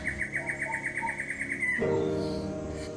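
Central American rainforest birds call and chirp in a dense chorus, a repeating high pulsed call giving way to layered whistles and trills, fairly close, no voices.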